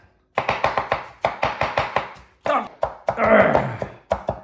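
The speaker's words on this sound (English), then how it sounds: "Do the same to an onion." A knife chopping an onion on a cutting board gives quick, sharp, closely spaced thuds in bursts with brief pauses, loud and near, no voices.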